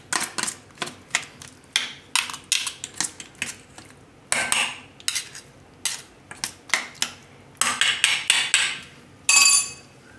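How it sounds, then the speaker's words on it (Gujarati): A spoon clinks and scrapes against a bowl while raw tomato curry with oil is mixed, making quick rhythmic taps in bursts with short pauses, close and fairly loud, with no talking. "હવે આ બધું મિક્સ કરી લેવું."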